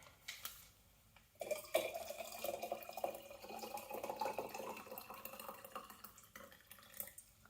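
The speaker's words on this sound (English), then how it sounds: "now I'm gonna fill rather hot water on top of it" Hot water poured into a container for homemade twisted candles: a steady, soft splashing pour that starts after a second and runs for several seconds, with faint dripping and light knocks toward the end.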